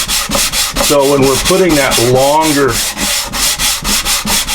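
A 4-inch sander loaded with 100-grit paper works the top of a cigar box guitar, producing a close, rhythmic scrubbing rasp in repeated strokes while someone speaks over it.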